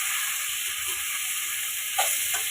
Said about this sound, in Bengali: সামান্য নাড়াচাড়া করে এর মধ্যে দেব খুবই হেলদি সজনের শাক।